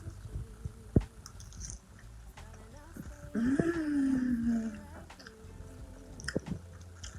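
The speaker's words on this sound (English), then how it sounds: "Let me give y'all a bite first with that broccoli and the noodles and all the seasonings that I added and sauces." Veggie chow mein noodles with broccoli and sauces being bitten and chewed close up, with soft wet chewing and crunching sounds, a sharp bite near the start and a brief hummed tone midway.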